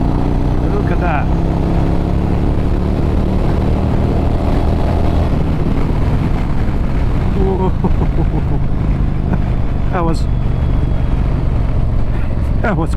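Yamaha Virago 1100 motorcycle ridden at full throttle on a Peak District road in Derbyshire, a steady loud engine drone mixed with heavy wind rush, constant and close, with a voice talking faintly underneath.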